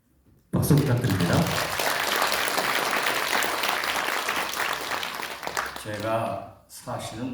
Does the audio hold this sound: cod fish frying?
no